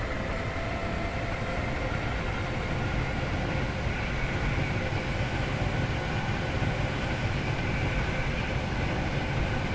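A passenger train in the Roblox railway game Stepford County Railway runs along at steady speed, a continuous loud rumble and hiss of wheels and motors with no break across the stretch.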